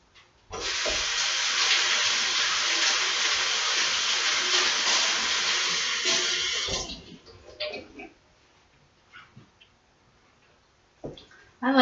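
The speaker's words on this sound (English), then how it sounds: "I like to go ahead and strain my juice. So when I pour it into the jar, it catches any little seeds" Homemade carrot ginger juice poured through a strainer into a jar, a steady rushing splash for several seconds that tapers into a few drips and small clinks.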